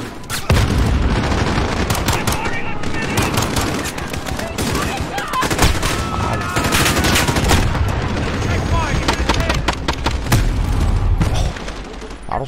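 Dense, rapid gunfire from the shooter Call of Duty: Modern Warfare 2019 rattles almost without pause, loud bursts of automatic weapons and heavier booms layered together, with voices occasionally under the shooting.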